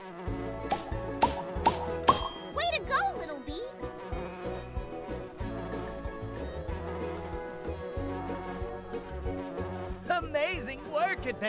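Cartoon bee buzzing in the Nature Cat video game Pollinator Pathway, wavering buzzy tones over bouncy game music and jingles, with repeated short chimes and effects.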